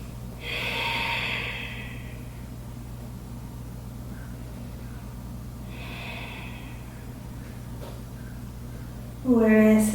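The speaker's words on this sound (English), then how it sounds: "now we'll take a few breaths into the shape" Deep breathing during a hatha yoga pose, two slow audible exhales a few seconds apart over a low steady hum, close and soft, with a brief voice at the very end.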